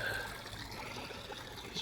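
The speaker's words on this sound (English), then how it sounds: "I liked how the water was falling, so I'm going with it." Water falls over rock into a garden pond, making a steady, close trickle that splashes softly and continuously with no pauses.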